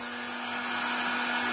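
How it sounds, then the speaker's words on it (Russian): A construction heat gun running at its highest speed gives a steady, loud blowing whine with a constant high hum, close by and alone. "я вам покажу, как это делается на фене. Строительный фен."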